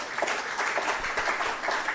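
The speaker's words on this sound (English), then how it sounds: "clap for yourselves." An indoor audience at an opening ceremony claps in a steady, continuous patter that lasts the whole moment, moderately loud and free of speech.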